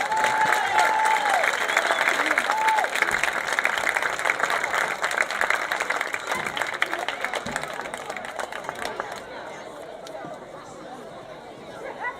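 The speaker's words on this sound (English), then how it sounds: "Give a round of applause to our little Colt Blue Devils." A crowd at a high school football game applauds and cheers for the little Colt Blue Devils youth team, steady clapping with chatter mixed in that fades somewhat toward the end.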